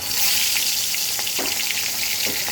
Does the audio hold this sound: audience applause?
no